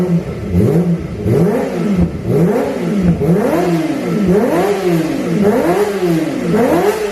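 Kawasaki Ninja ZX25R with a Falcon Original underbelly exhaust, revved repeatedly in a quick, rhythmic series of throttle blips, loud and close, with no talk.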